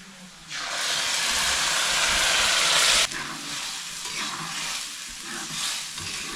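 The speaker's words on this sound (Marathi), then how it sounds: "हा मसाला आहे ना चांगला आता फ्राय करून घ्यायचा" Ground masala paste for makul masala gravy, with onion, frying in a pan on a wood-fired chulha: a loud, steady sizzle bursts in, then settles into a bubbling hiss broken by stirring scrapes.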